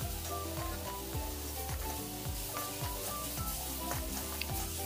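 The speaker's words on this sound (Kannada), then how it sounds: "ಒಂದರಿಂದ ಎರಡು ನಿಮಿಷ ಇದನ್ನು ಫ್ರೈ ಮಾಡಬೇಕು" Chopped Kirksali leafy greens cook as a sabji (palya) in a pan on a gas stove, with a steady, loud sizzle and occasional soft stirring scrapes throughout.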